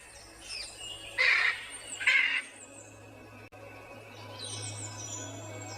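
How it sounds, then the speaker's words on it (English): A hyacinth macaw, the largest parrot species, gives two loud harsh squawks from high in a forest canopy, with fainter calls trailing after over a low steady hum. "the hyacinth macaw, the largest parrot species on Earth"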